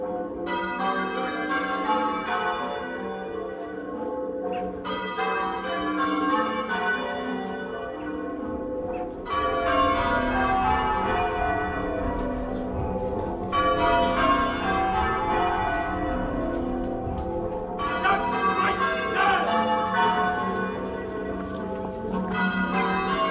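A church bell rings in a long series of struck peals with heavy lingering resonance, the strokes half-muffled on one side so alternate blows sound quieter, steady and fairly loud, with no talking.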